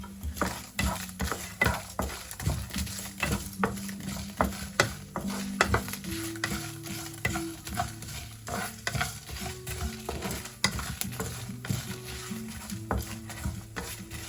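Mustard seeds and Byadagi chillies frying in oil for sambar, crackling and popping in a steady patter, with frequent sharp metallic clinks of a spoon against the pan, close up and without talk.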